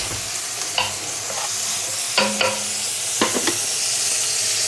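Fish browning in a pan for fish soup, with a steady close sizzle and a few sharp clicks of a utensil stirring and scraping against the pan.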